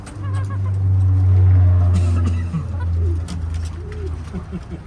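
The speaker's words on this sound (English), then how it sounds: "Right up above Buster, we have some pigeons, and we have a couple different breeds here" Pigeons of the French Flyer and owl breeds coo nearby, a loud, low, drawn-out coo followed by softer, shorter calls, with faint background traffic.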